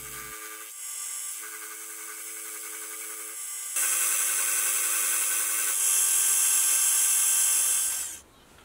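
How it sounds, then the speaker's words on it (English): Milling machine fly cutter facing metal blocks to size for V-blocks, a sustained high-pitched whining cut that steps up in intensity in stages, then stops abruptly, with no voices. "So I'll use a fly cutter and the DRO to come in and face these to size"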